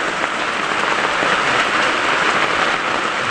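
Dense, steady rain pours down hard during a strong typhoon on a farm, a loud continuous hiss of drops on surfaces with no pauses and no voices.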